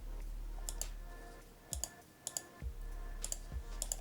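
A computer mouse clicking in a handful of sharp, sparse clicks at close range, quiet against a low steady hum, with no voices.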